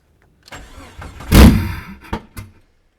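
A Jeep Cherokee with no exhaust downpipe cranks and catches, bursting into a loud, raw roar that swells, then dies back with a couple of sharp revving blips before fading out.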